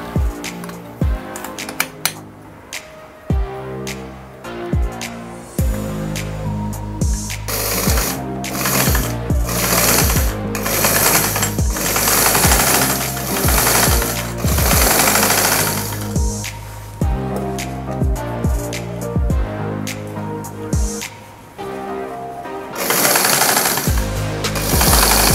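A sewing machine runs thread through white and green fabric, its needle mechanism rattling loudly in fast, steady runs broken by short pauses and restarts, close by.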